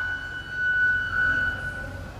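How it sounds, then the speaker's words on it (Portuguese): Steady electronic siren tone from the siren unit fitted to an armored BMW X6M 4.4 V8 BiTurbo, a fairly loud continuous pitch sounding close up and alone, without talk. "Todo carro blindado tem que ter isso daqui, ó. Sirene"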